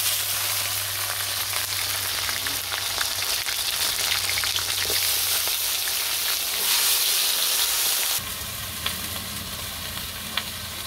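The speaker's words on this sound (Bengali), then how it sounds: "আমি সবজিটি রান্না করে নিই, সবজিগুলো দিয়ে দিই।" Okra and vegetables frying in a pan for a village-style curry with bata fish, a steady dense sizzle that drops to a softer, lower frying hiss partway through, with no voices.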